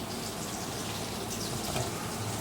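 Water pours steadily into a cooking pot in a home kitchen, a continuous hissing gush at moderate level lasting the whole moment.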